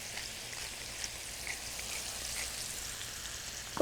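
Chicken frying in a pan of butter and olive oil, a steady soft sizzle and crackle, quiet and continuous with no talking.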